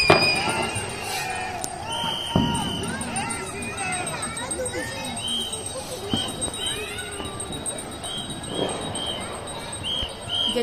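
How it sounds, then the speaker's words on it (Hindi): Firecrackers going off at night during a lockdown Diwali celebration, heard from a balcony: scattered distant bangs and whistling rockets over a murmur of neighbourhood voices. "कहीं शंख बज रहा है तो कहीं पटाखे जलाए जा रहे हैं"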